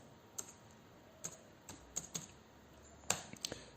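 Scattered keystrokes on a computer keyboard while C code is typed, a handful of sharp clicks with uneven pauses, close and quiet, no voices.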